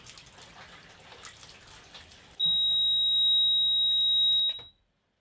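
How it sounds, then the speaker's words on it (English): A boat bilge pump high water alarm sounds abruptly after some water and dripping noise, a loud steady piercing electronic tone holding for about two seconds before cutting off. "If I did everything right, the pump should go off and the alarm should go off."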